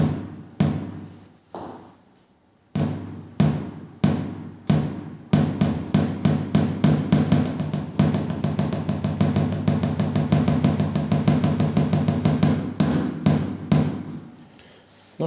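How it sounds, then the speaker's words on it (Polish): Repeated dry thuds from the kick pedal of a Millenium MPS-850 electronic drum kit played unplugged, with no amplification: a few spaced single strikes first, then a fast, steady run of close, loud beats. "Jeśli chodzi o pedał stopy, o to jak głośno uderza na sucho."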